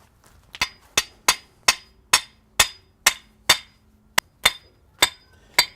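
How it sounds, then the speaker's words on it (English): Sharp metallic hammer blows drive a 2-foot length of steel rebar into garden soil, about a dozen strikes in a steady rhythm, each ringing briefly, close by with no talking. "taking a 2-foot section of rebar and hammering it down"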